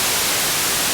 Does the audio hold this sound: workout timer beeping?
no